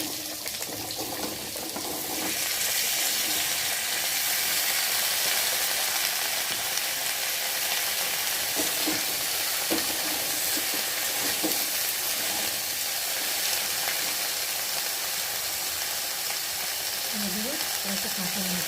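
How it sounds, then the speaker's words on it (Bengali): Vegetable drumsticks frying in hot oil with tempering spices for a Bengali data chorchori produce a loud, dense sizzle that swells after a couple of seconds and holds steady, punctuated by occasional stirring knocks. "এখন একে একে ডাঁটাগুলো দিয়ে তেলের মধ্যে ভেজে নেব।"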